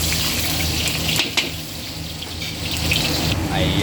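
Ginger frying in hot oil for adobo chicken wings gives a steady, close hiss and sizzle with a few brief crackles and pops along the way.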